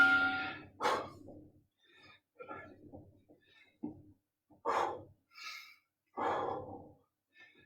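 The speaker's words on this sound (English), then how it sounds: "Control that breathing, nice and steady." Heavy, rhythmic breaths and sighing exhales during a core twist exercise in a HIIT workout, with bursts of effortful breathing separated by short pauses, close and clear.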